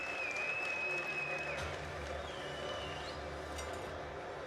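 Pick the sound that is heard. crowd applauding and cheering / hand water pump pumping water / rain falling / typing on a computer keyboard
crowd applauding and cheering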